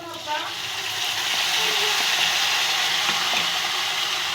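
A spice paste of chili powder, Kashmiri chili powder and sugar sizzles steadily in a pan while cooking aloo dum, producing a continuous bright frying hiss with faint stirring clicks.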